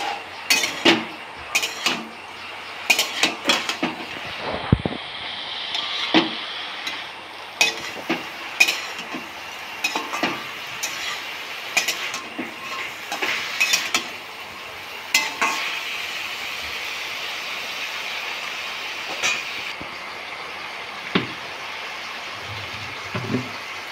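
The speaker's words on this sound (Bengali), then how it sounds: "ঢাকা তুলে নিয়েছি, এবার একটু নাড়িয়ে দেবো শাকগুলোকে।" Leafy greens cooked with potato, eggplant and drumstick stems get stirred in a pan, a soft hiss of cooking under repeated scraping and clinking of a spatula against the pan in irregular bursts, close and moderately loud.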